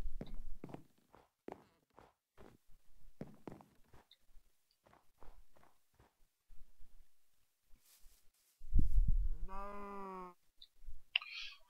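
Footsteps click steadily in a video game, then a cow gives one loud, drawn-out moo near the end, followed by a brief clatter.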